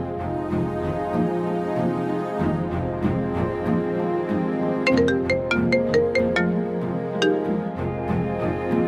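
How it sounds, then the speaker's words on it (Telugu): A melodic phone ringtone plays steadily and loudly throughout, a looping tune with bright chime-like notes repeating near the middle. "ఫోన్ వచ్చింది, వెళ్ళి మాట్లాడుకోండి మేడం"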